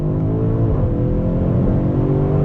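Inside a 2021 BMW X5 M Competition accelerating hard in second gear, a loud, steady engine roar climbs in pitch with a dense low rumble and no talk.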